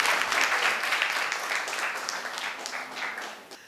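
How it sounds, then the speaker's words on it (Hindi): Applause from a gathering at a Buddhist vihara in Raipur during a question session: a burst of brisk clapping that stays steady, then gradually thins and fades. "जोरदार तालियां"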